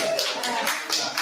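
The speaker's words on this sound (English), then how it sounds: "Clapping for something that I just told you illegal." Audience applause at a Thornton Township meeting: a dense, sustained burst of many hands clapping together, fairly close and loud throughout with no pauses.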